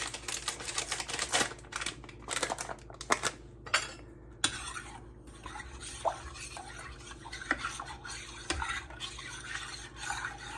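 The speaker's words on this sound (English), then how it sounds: "gonna stir in the pudding mix" A spoon stirs pudding mix for banana pudding in a bowl, giving steady scraping and clinking against the sides, with sharper taps at intervals, close and clear with no talking.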